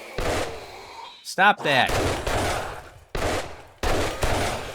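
Gunfire from a player's gun in the zombie survival game 7 Days to Die during a blood-moon horde fight, loud repeated blasts in bursts with one short voice line between them.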